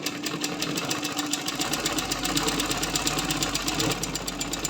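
A pedal-operated sewing machine stitches fabric in a fast, even mechanical patter, steady and fairly quiet, heard close up with no talking.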